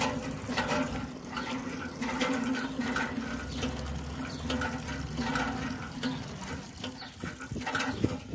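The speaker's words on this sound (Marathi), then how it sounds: "पाणी भरतो" Water pours steadily to soak the khus grass pads of an evaporative cooler, a continuous rushing, splashing flow at moderate level with faint clinks and no talking.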